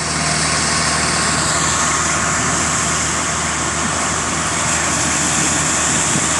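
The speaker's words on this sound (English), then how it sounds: "2 140s pushing the boat, small boat." A small boat driven by twin Suzuki 140 outboard engines, heard as a loud, constant, close engine roar with wind and water noise, during a snoek fishing derby at sea.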